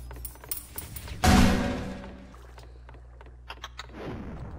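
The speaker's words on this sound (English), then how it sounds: "Stop bombing me, game." Bomb explosions in the Roblox game Kaiju Paradise during its Halloween event: a loud sudden blast booms and fades over about a second, framed by scattered sharp clicks and thuds, with no speech.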